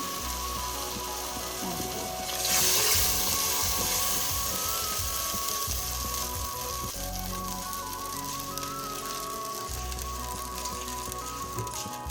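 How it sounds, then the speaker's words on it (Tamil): Tamarind water goes into a hot pan of ground paste and sautéed onion for fish curry, bringing a sudden loud hiss and splash that settles into a steady close sizzle and bubbling. "நான் புளி விடுறேன் இந்த அரைச்ச கூட்டை கரைச்சி போட்டு"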